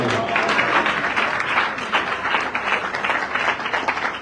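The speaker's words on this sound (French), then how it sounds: "Est-ce qu'on peut applaudir pour la grâce?" A church congregation claps steadily and loudly for several seconds during a Sunday service, a dense, continuous applause filling the room with no voices standing out.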